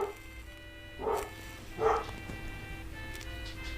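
Dogs bark outside the back door, two distinct barks about a second apart, moderately distant over a steady background hum.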